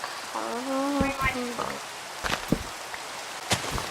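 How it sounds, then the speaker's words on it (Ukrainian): Rain falls steadily in the Minecraft video game, a soft continuous patter with scattered louder drops, while a voice hums and speaks over it. "Я перекручу відео, доки вже не буде дощу"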